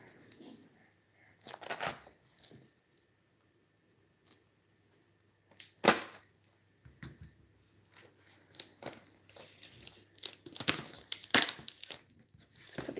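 Foil wrapper of a 1995 Skybox Free Willy 2 trading card pack being torn open by hand, bursts of crinkling and ripping close up, separated by quiet pauses, with one sharp tear near the middle and a busier stretch of rustling toward the end.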